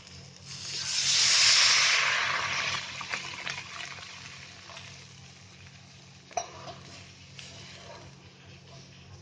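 Water is poured into a pan of dry Bombay duck curry over a low gas flame, giving a loud hissing sizzle that swells early and then settles into a softer, steady bubbling simmer.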